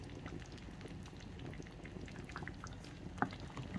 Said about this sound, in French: Et laisser encore mijoter pour quelques minutes.